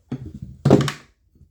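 The clutch drum of a Stihl MS 290 chainsaw is set back in place with a short metallic clunk, then a heavier solid thunk, close up and with no talking.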